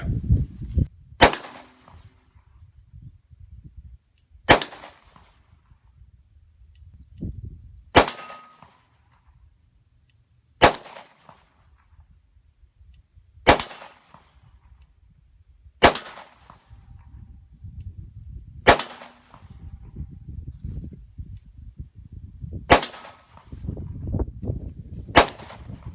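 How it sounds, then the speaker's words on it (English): Glock pistol shots fired at a propane tank outdoors, about nine sharp, loud reports spaced a few seconds apart, each with a ringing tail, with quiet rustling and faint background noise between them. "Well, I shot, I think, 3 times at that"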